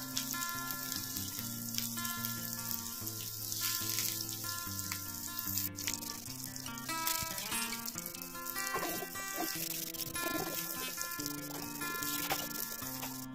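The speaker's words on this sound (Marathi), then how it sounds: "आता आपण भेंडीची साईड चेंज करून घेऊया आणि दुसऱ्या बाजूनेही अगदी व्यवस्थित भेंडी फ्राय करून घेऊया" Stuffed okra (bharli bhendi) fries in a pan with a steady, soft sizzle that continues throughout, partly masked by background music.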